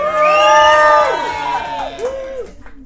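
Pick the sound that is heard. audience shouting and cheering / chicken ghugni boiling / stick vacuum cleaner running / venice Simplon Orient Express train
audience shouting and cheering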